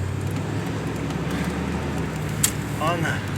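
A car fitted with a QuadraJet carburetor and a freshly changed fuel filter drives on a test run, its engine and road noise forming a steady low rumble from inside the cabin, with a brief click and a voice near the end.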